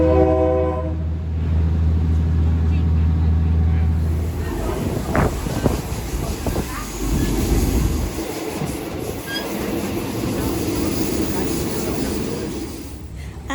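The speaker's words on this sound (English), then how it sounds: "waiting for the train, which will then take us straight through the market" An old train on the Mae Klong Railway sounds a long horn blast, then its wheels and carriages rumble and squeal close by as it pulls away, with wind buffeting the microphone.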